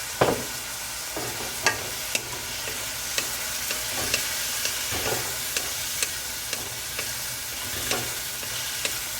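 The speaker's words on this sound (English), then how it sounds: "And now I'm going to add my chicken" Chicken pieces hitting a hot pan for black pepper chicken, then stir-fried with vegetables: a steady close sizzle runs throughout while the spatula scrapes and clacks against the pan in regular sharp strokes.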